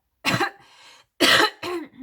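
Two harsh coughs close to the microphone from a woman with a lingering cold, each followed by a short raspy breath, with a brief pause between them.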